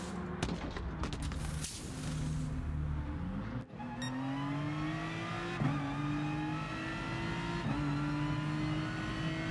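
Aston Martin race car in GT Sport at Monza, its engine droning steadily and climbing in pitch through the gears, with shift breaks and a brief dip in the middle. No talk.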